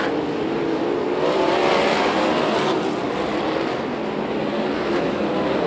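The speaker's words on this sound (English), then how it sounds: "Huge group of cars. That's a crash waiting to happen through turns one and two." A pack of USAC/CRA sprint cars races at Perris Auto Speedway, producing a dense, continuous roar of engines at a distance that swells slightly as they pass, with no voices over it.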